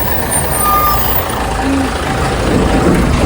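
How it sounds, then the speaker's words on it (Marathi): A large truck rumbles loudly nearby on a narrow hill road to Matheran, its heavy engine drone steady and close, with a brief squeal of brakes. "एवढा मोठा ट्रक आलाय."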